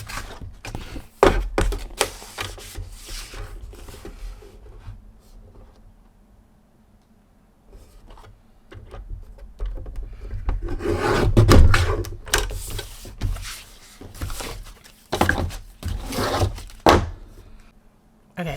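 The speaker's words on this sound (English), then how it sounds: "guillotine cutter, and I'm just going to cut them simultaneously down into 4-inch strips." A guillotine cutter slices sheets of craft plastic into 4-inch strips with a few scraping, rasping strokes and thunks. Quiet gaps separate the strokes, and a louder burst of cutting comes near the middle.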